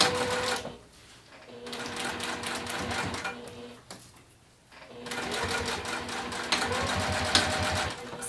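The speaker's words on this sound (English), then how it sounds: "I'm going to come over to the machine and sew it with that same seam allowance" A sewing machine stitches a seam through waterproof canvas in two rapid mechanical runs separated by short pauses, close and clear, with a brief voice in the gaps.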